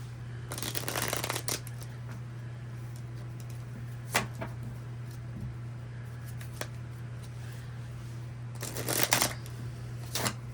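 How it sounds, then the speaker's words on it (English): Modern Witch Tarot cards being shuffled by hand, with bursts of riffling near the start, around four seconds and again near nine seconds, over a steady low hum, no talking. "I'm going to give these a good shuffle before we start."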